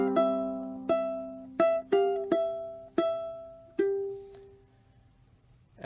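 Ukulele fingerstyle passage: seven distinct plucked notes ring out, clear and close, at an unhurried, slightly uneven pace, the last note left to decay into quiet.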